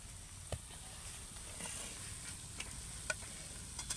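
Fried gaja is stirred through sugar syrup in a pan off the heat, giving a faint, steady sizzling hiss broken by a few small scraping clicks.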